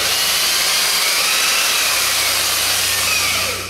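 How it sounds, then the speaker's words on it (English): An old Makita buffer with an adjustable speed control, running continuously at low speed, giving a loud, steady rushing whir with a constant low hum and no breaks. "This is a Makita. This is a very old buffer."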